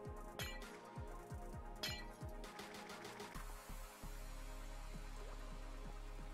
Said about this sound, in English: the little water drop sound